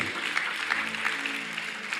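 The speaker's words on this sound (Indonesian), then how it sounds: "Tepuk tangan bagi dia." Soft, steady applause from a congregation at a church service, even and continuous for a short stretch with no distinct voices.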